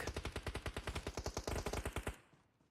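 An MG3 machine gun firing in the PUBG Mobile video game, a fast, even burst of about twenty loud rounds that stops abruptly, followed by a short fading tail.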